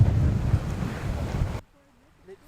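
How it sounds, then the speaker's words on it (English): Strong wind at a beach during an Ironman triathlon in Frankfurt roars and buffets the microphone, then cuts off abruptly into near silence with faint sounds. "It's windy"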